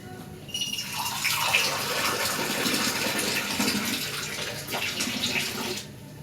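A glass of water poured into a non-stick pan, a continuous splashing gush lasting several seconds, close up and fairly loud, with no voices.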